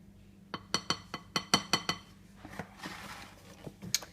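A rubber spatula scrapes and taps against a mixing bowl while a third of the butter cake mixture goes in, a run of sharp clinks followed by softer scraping and a few more taps.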